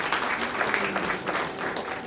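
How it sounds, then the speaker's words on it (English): An audience at an inauguration ceremony applauds dignitaries with dense, steady clapping from many hands throughout, indoors and fairly close. "Please give a big hand to our dignitaries"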